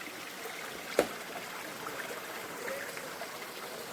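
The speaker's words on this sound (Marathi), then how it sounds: "पाण्याचा आवाज येतोय." A clear forest stream in the Sahyadri hills near Vasota Fort flows with a faint, steady rushing hiss, heard from a short distance, broken once by a single sharp click.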